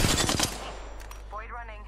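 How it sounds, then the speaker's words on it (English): Rapid automatic gunfire in the Apex Legends video game rattles in a dense burst at the start, then fades into scattered distant shots and game sound effects, with no talking. "Oh, there's somebody shooting at us here."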